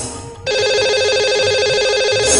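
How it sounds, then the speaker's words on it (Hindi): Telephone ringing on a call placed to a lucky caller during a Hindi radio show's Diwali segment, a steady electronic ring tone that starts abruptly after a brief quiet moment and continues loudly without talk. "लगाते हैं इन्हें कॉल और करते हैं बात।"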